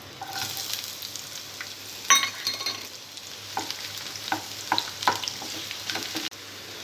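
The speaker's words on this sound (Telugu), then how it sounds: "ఇవి కొద్దిగా ఫ్రై అయిన తర్వాత ఉల్లిపాయ ముక్కలు వేసుకోవాలి." Onion pieces frying in hot oil with whole spices for an okra masala curry, a steady sizzle with scattered crackles and spatula scrapes against the pan, close and without talk.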